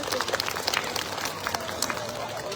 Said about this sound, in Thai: ขอเสียงปรบมือให้กับการแสดงชุดที่สองครับ